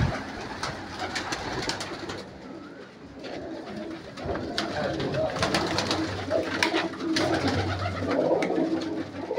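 Pigeons coo steadily on a village rooftop where young pigeons have been released, their low repeated calls layered with some background noise throughout.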